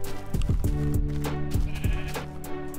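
Minecraft sheep bleat several times in a close, fairly loud series of short nasal cries over steady game background noise.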